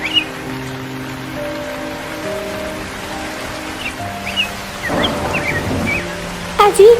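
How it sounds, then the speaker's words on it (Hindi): Cartoon rainstorm: a steady wash of rain with low thunder rumbles that swell near the end, layered over soft tonal music, with a few bright chirps and a sharp effect at the close. "अजी ये तो बारिश हो रही है।"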